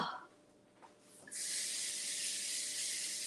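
Onions hit a hot pan and break into a loud, broad steady hiss after a quieter opening moment, continuing evenly to the end with no talk.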